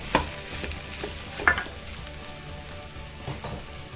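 Potato and pea curry stirred in a pan, a soft steady sizzle beneath a few sharp clinks of the spoon against the metal, close by with no talk.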